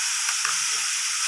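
Turmeric and Kashmiri chilli paste hitting a hot pan, giving a loud, close, continuous sizzle with a bright steady hiss and faint crackles, no voices.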